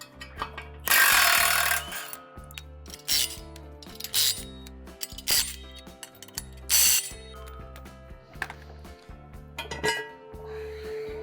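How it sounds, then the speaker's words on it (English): A half-inch impact wrench with a three-quarter socket removes blade bolts on a Salford tillage machine, firing in short rattling bursts between pauses, with metallic clanks and ringing over a low background drone. "I've got my 1/2-inch impact with a 3/4 socket, 3/4 wrench"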